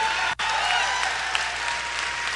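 A crowd at a political rally applauds steadily, a dense, loud wash of clapping that carries on without a break apart from one very brief dropout near the start.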